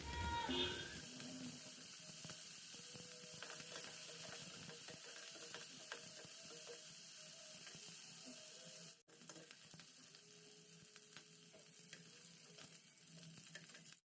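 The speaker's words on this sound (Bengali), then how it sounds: "এখন এখানে আমি চিংড়ি মাছগুলো ভেজে নিচ্ছি একটু।" Prawns frying in hot oil in a pan give a steady, fairly quiet crackling sizzle that runs the whole time with no talk.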